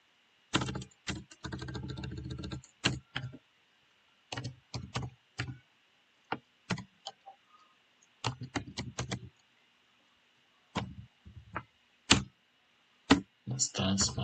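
Bursts of clicky computer keyboard typing while writing OpenCV code for an intruder detection system, close and crisp, coming in irregular clusters separated by short pauses.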